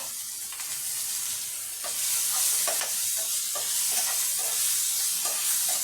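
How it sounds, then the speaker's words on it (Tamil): Green peas and cauliflower sautéing in a pan with mint, green chillies and coriander, a steady sizzle with soft stirring scrapes throughout, close and fairly loud, no talking. "நல்லா வதங்கட்டும், பார்க்கலாம்."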